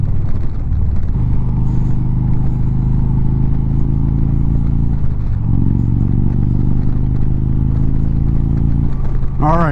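A motorcycle rides at highway speed, 70 and above, with no windshield fitted, giving a loud continuous engine drone under heavy, rumbling wind buffeting, with a brief dip in pitch partway through.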